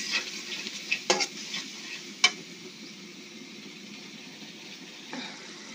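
Spice paste for a maskalai dal bori preparation being stir-fried in a pan, with a low steady sizzle broken by a few sharp scraping strokes of a spatula, close up, with no talking.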